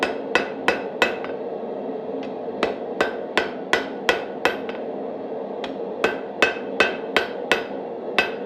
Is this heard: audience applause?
no